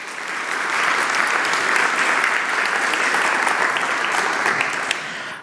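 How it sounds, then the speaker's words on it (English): Sustained applause from the audience at a carcinogens policy conference, a dense and steady clapping that holds evenly for several seconds before cutting off abruptly. "So I think we deserve to give them a warm round of applause."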